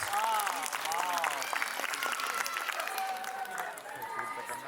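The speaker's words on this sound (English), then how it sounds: "Let's give her a big round of applause." A crowd at a school annual day applauds and cheers, with clapping and scattered voices mixed together, fairly steady throughout and fading slightly toward the end.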